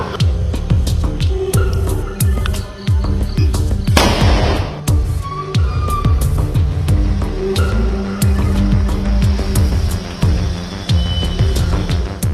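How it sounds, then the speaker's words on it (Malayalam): Firecrackers set off by residents to chase stray dogs away from a gated compound: a dense, loud barrage of sharp cracks and pops bursting almost continuously, with a brief hissing surge partway through. "എത്ര പടക്കം പൊട്ടിക്കും ഒന്നോടും, വീണ്ടും തിരിച്ചു വന്ന് ഇവിടെ കിടക്കും."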